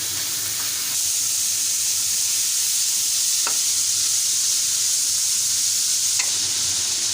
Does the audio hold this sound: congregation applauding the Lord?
no